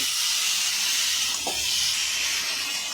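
Long-cut eggplant slices fry in oil, giving a steady, dense close hiss and sizzle throughout with one faint clink midway.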